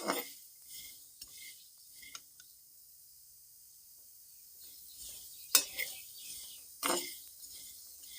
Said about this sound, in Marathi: आपल्याला कमी गॅस करून हे शेंगदाणे चांगले मिठामध्ये परतावून घ्यायचे आहे